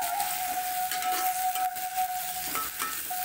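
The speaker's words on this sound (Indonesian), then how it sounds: "Nah kita panaskan minyak, kita masukkan bumbu tadi yang kita haluskan, kita tumis" Ground spice paste stir-frying in hot oil for a fern-shoot stir-fry, giving a steady close sizzle with soft stirring scrapes and a thin ringing tone running underneath.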